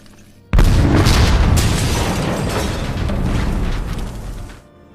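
A single loud bomb blast from the film Munich, a sudden heavy boom that hits at once and then rumbles and crackles for about four seconds before cutting off.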